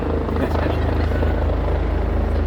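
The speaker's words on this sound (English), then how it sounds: "Only the helicopter is coming." A helicopter roars close by, its rotor producing a loud, steady thumping drone that fills the whole stretch, with muffled voices faintly beneath.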